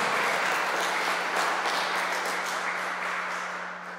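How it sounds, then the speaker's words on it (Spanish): A church congregation at a Monday praise service applauds, a thick continuous wash of clapping from many people, steady and fairly loud, tapering off toward the end over a low electrical hum. "Denle un aplauso a ese samaritano"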